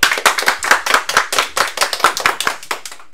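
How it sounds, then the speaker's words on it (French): A small audience at a school event applauds a child named Léo, a few pairs of hands clapping in quick, sharp, uneven bursts, close and fairly loud, with no talk over it. "On peut applaudir très fort Léo."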